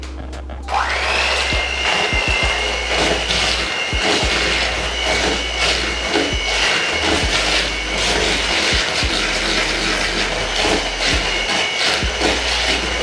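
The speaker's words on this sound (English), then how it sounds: "now I'm gonna mix up all the wet things together and kind of get that sugar and all those other ingredients kind of moving" Electric mixer beating wet chocolate chip cookie ingredients, butter and sugar, in a kitchen bowl: a loud, steady whirring drone with scraping texture that starts abruptly and runs unbroken to the end.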